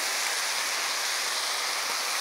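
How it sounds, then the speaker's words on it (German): Chopped onions frying in a pan alongside mushrooms, a steady, loud, even sizzle filling the whole moment without pause, with no talking. "Und rösten und braten die mit an."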